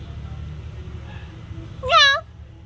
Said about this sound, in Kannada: ಚಂದ ಬೆಕ್ಕದು ವಯಸ್ಸಾಯಿತು